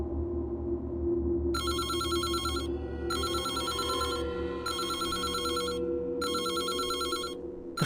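Telephone in the game Reverse: 1999 ringing in four long electronic bursts separated by short pauses, loud and bright over a steady low background hum.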